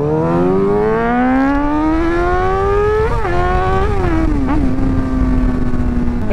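A modded Suzuki GSX-R 600 sport bike engine screams as it revs, a loud raspy whine climbing steadily in pitch, then dipping and surging through quick throttle blips before settling into a sustained high drone, close and alone.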